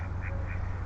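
A duck by a canal gives two quick, nasal quacks over a low steady background hum, close and clear.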